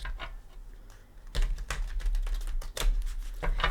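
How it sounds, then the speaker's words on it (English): Quick papery riffling bursts, close and crisp, a Light Seers tarot deck shuffled a few times with brief pauses between. "Give her a couple shuffles."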